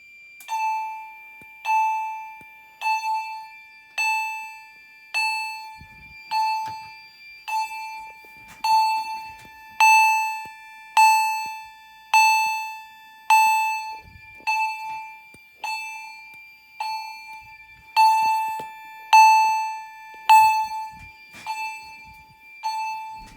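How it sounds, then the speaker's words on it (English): An old building fire alarm bell or chime rings steadily after the pull station is pulled, giving a loud, repeating ringing tone about once every 1.2 seconds that runs on and on with no voices. "before I pull the fire alarm"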